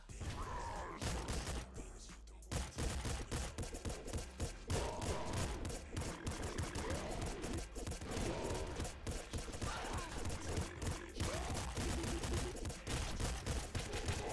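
Rapid gunfire from a Golden Bouncer SMG in the video game Nuclear Throne (Ultra Mod), a dense, continuous stream of quick shots and impacts after a short gap near the start, steady and fairly close.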